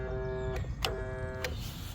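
The electric motor of an LDRC LD1299 RC car whines at full throttle, a faint, high-pitched tonal whir that cuts in and out in short bursts with soft clicks between.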